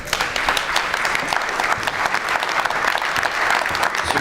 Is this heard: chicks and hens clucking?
no